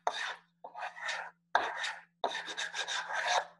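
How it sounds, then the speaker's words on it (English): Sandpaper stuck to a flat block rasps along a wooden chair edge in several rhythmic strokes, close and fairly soft, each pass a dry scratchy hiss separated by short pauses, with a low steady hum underneath. "you take a flat block, put some sticky back sandpaper on it, and you roll it over"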